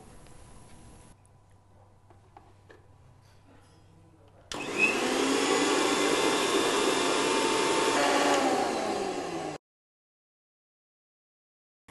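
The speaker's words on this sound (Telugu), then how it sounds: "ఈ మిశ్రమాన్ని మిక్సీ చేసుకోవాలి." A mixer grinder whirs loudly and steadily for about five seconds, grinding grated fresh coconut with a fried mixture for carrot kootu, then cuts off into silence after a quiet start.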